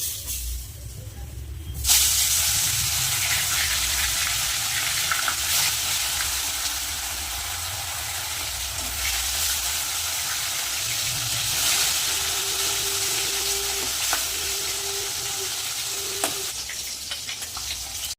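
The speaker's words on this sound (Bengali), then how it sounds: "তেল কিন্তু গরম হয়ে গেছে মাছগুলো ভেজে নেব" Fish frying in hot oil in a wok, a steady loud sizzle with crackling that starts abruptly and continues throughout, close by with no talking.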